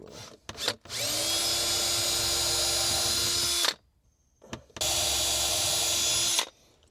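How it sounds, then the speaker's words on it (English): A power drill whines steadily at high speed in two long bursts separated by a short pause, close up and loud, with light knocks between, drilling through board inside a Mini Cooper. "Trying not to drill through my seats."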